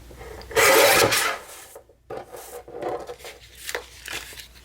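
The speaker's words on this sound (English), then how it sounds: "So I'm going to trim this side down a little bit as well." A clear windowed paper envelope is trimmed with a few close, dry rasping cuts, one long loud stroke followed by shorter quieter snips, with no talk.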